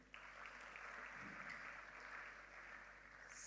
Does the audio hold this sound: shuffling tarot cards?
no